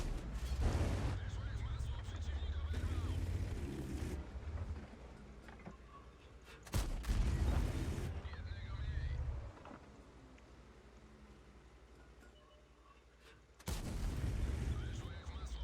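Heavy artillery shell blasts in World of Tanks boom out in a few loud, low thumps with rumbling decay, separated by quieter stretches of engine and battle noise.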